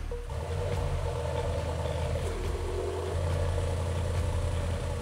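A Mercedes-AMG S coupé engine idles nearby with a steady, low, rumbling burble, even and unhurried throughout, with no voices over it.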